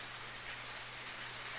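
Steady rain in the video game 400 Days, a dense even patter spread across the whole stretch with a faint low hum underneath and no voices.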